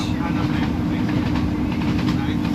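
A train rumbles along steadily on its way into Porthmadog in Wales, a close, continuous low roar of carriage and track noise with faint rhythmic clatter throughout.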